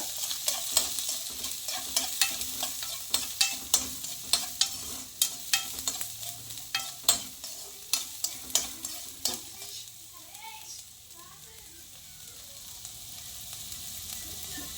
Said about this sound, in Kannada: ಇದಕ್ಕೆ ಸ್ವಲ್ಪ ಈರುಳ್ಳಿ ಹಾಕ್ಕೊಳ್ಳೋಣ ಸ್ವಲ್ಪ ಫ್ರೈ ಆಗಬೇಕೀಗ